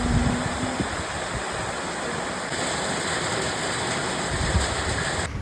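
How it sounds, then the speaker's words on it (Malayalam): Heavy, wind-driven rain pours down outside a house, a steady, dense hiss that stays loud and even throughout with no voices. "കയറിയപ്പോഴേക്ക് പെരും മഴ പെയ്ത്"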